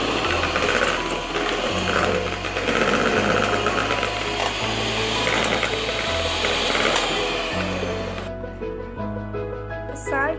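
An electric mixer beats cake batter with powdered sugar for a fresh cream vanilla cake, a loud steady mechanical whir with a rattling edge that shifts pitch now and then, running continuously up close.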